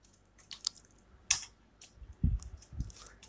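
Sparse keystrokes on a computer keyboard while items are entered into Busy accounting software, a few light clicks scattered over a quiet room, with a couple of duller thumps near the end.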